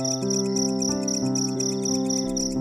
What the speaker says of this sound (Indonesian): Suara jangkrik menggantikan deru motor.